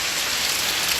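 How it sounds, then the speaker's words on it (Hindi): Steady monsoon rain falls hard and close, a dense, continuous hiss of drops hitting surfaces with no pauses and no voices. "बारिश हो रही है।"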